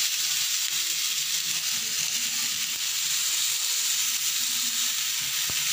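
Potatoes frying in a pan with panch phoron spices, a steady even sizzle holding at moderate loudness throughout with faint stirring clicks, no voices.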